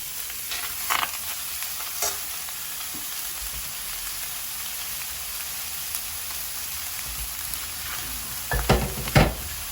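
Steady hiss of a kilo of beef cubes searing in a hot pot, with a few sharp crackles and clanks of stirring near the end.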